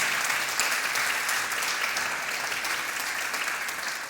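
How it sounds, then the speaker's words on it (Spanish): A church congregation breaks into loud, sustained applause, a dense wash of many hands clapping together that holds steady for several seconds and fades slightly toward the end, with no speech over it. "Alguien puede dar un fuerte aplauso a mi Señor."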